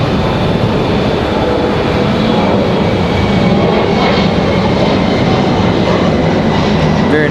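An Air Canada airliner departing from Raleigh-Durham airport roars steadily and loudly throughout, a dense broadband jet rumble with a faint rising whine, no voices over it.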